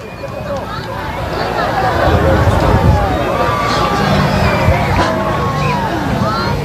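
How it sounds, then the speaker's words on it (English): A crowd outdoors during the 2017 coast-to-coast total solar eclipse applauds and cheers, a steady, dense wash of clapping, voices and whistles that swells slightly after the first two seconds and holds loud throughout. "let's listen to that crowd"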